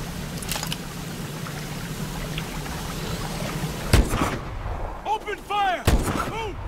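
Gunfire in the Call of Duty: Advanced Warfare mission Crash, with a low rumbling combat bed and a few sharp distant shots, then two loud close bursts near the end amid splashing and ringing effects.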